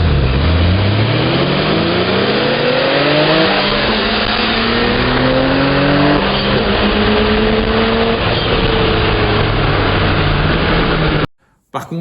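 A BMW M3 E30 pulling away from a red light, its engine revving up through several gears in rising, sweeping pulls, loud and close inside the car, with someone talking over it.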